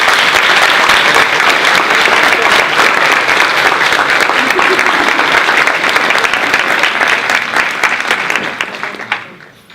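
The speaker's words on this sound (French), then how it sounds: "je souhaiterais un tonnerre d'applaudissements pour mademoiselle Pauline Labitte" A large audience at a French university pleading competition bursts into loud, sustained applause for a contestant, a thick roar of clapping with scattered cheers and voices mixed in, fading out over the last second.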